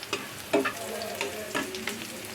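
Cumin seeds, onion and a bay leaf fry in oil in a pan for a mashed fish dish, giving a soft sizzle with several clinking stirs, close and moderately quiet.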